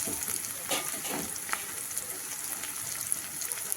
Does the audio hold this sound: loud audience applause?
no